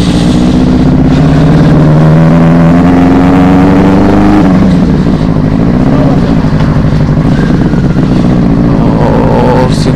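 A Benelli 600i superbike revs hard up close, its engine note climbing steadily for several seconds, dropping back, then pulling again with loud, continuous throttle.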